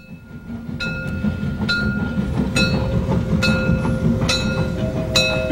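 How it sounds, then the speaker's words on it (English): East German steam tank locomotives run by with rhythmic clanking wheel beats and sharp periodic metallic clicks over a steady low rumble, fairly loud and close. "Here are the locomotives in real life that inspired the popular LGB models."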